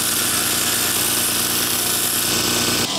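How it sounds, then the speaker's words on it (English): Multi-tool grinding a Showa compression adjuster part flat: a loud, continuous, close grinding whine that cuts off abruptly near the end. "The multi-tool is great because we can grind it flat on this side."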